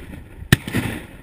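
A single sharp shotgun blast during a duck hunt at Richmond Hunt Club in Illinois, one loud crack with a short rolling echo, set against quiet outdoor background.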